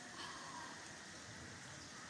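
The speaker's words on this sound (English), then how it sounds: "It's starting to rain again." Soft, steady rain begins falling during a thunderstorm in Santa Ponsa, pattering continuously on a surface, a faint even hiss with no voices.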